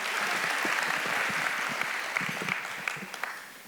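Applause from an audience at a live philanthropy day event, a dense wash of many hands clapping that swells and then thins out toward the end, with a few distinct claps standing out near the close.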